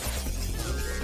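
Cartoon robots smashed together in a single harsh crash at the start, a brief loud impact with shattering debris trailing off over a dense, steady rumble.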